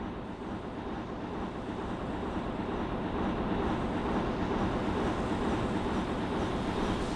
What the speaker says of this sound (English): here comes a northbound train on the other tracks.